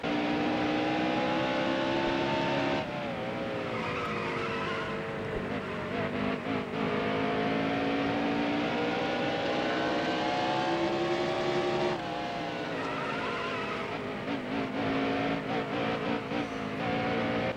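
A NASCAR stock car in a racing video game runs an outlap at Bristol, its engine droning loud and steady throughout, with rising and falling revs as it shifts and works through the corners.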